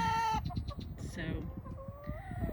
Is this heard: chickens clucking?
yes